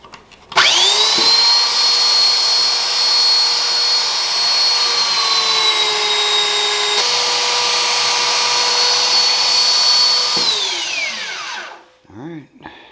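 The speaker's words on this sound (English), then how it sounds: "I'm using the belt sander to kind of get it down to where there are no chips" A belt sander grinds chips out of a steel meat cleaver blade with a loud, steady, high-pitched whine that holds for about ten seconds, then spins down and fades before a brief rattle.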